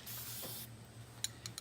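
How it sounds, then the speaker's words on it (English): Spray paint hisses from an aerosol can onto a plastic jug used for catfish bottle fishing, one close, steady burst of about half a second followed by faint handling clicks. "Just spray it like that, let it dry."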